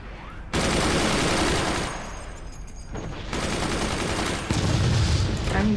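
Machine guns in the Forts strategy game firing in long sustained bursts, loud dense rattling volleys that stop briefly and then resume, with no talk over them.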